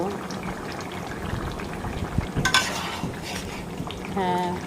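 Bottle gourd curry with coriander leaves bubbles in a pot on the stove, a soft steady simmer broken by a few light clinks of a spoon against the pot.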